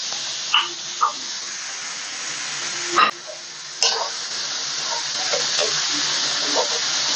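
Steady sizzling of onions frying in oil in a pan, with occasional stirring scrapes and clinks over the continuous hiss.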